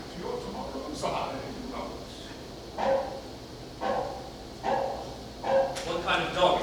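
A dog barks in a series of about six short, fairly close woofs at uneven intervals, the last few bunched together, over a low room background.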